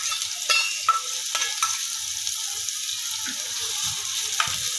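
Chopped onion and cumin seeds fry in ghee with a continuous bright sizzle while a utensil stirs them, scraping and clinking against the pan in irregular strokes; no voices.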